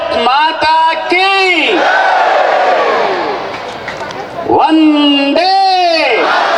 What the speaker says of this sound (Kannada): 2 ಕೈ ಎತ್ತಿ ಜೈಕಾರ ಹಾಕಬೇಕು.